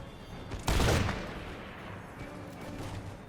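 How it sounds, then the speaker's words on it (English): A cannon in an American Revolution battle game fires one loud, close boom that decays into a rumbling tail, with a low battlefield din continuing after. "The cannons are firing towards Dunmore's Ethiopians."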